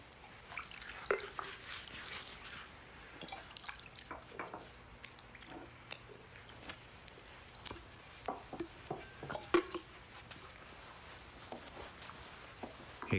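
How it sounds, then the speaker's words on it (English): Water trickles and drips into a wash basin as feet are washed, with soft splashes, patters and squishy sloshing scattered irregularly, faint and close throughout. "Then he poured some water into a wash basin and began to wash the disciples' feet"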